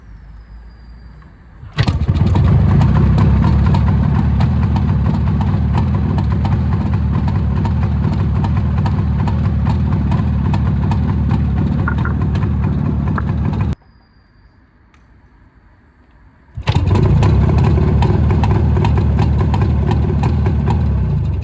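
A ČZ 472.5 motorcycle engine catches and runs at a steady loud idle, cuts out for a few seconds, then starts again and keeps running.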